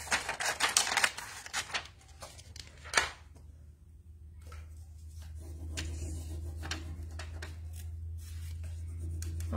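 Scissors snip through a Prima transfer sheet in a run of quick, close cuts, then stop; a steady low hum fills the quiet stretch that follows. No one speaks.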